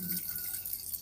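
Water poured and flushed through a part of a Rinnai gas stove, running steadily and freely with a light splashing hiss, close by and with no talk.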